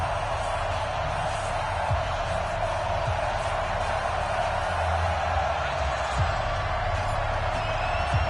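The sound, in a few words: stadium crowd in the video game Madden football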